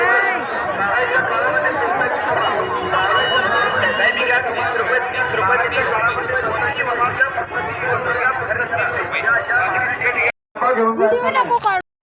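Dense crowd of devotees at the Tukaram Bijotsav temple darshan, with continuous loud overlapping chatter and hubbub throughout, briefly cutting out near the end before the babble resumes.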